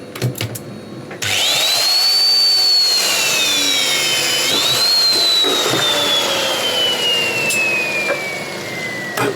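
A tension test machine loading a 3/4-inch bolt gives a loud, sustained hydraulic whine. Its tone rises, dips and then slowly glides downward, with faint clicks and creaks underneath and no speech.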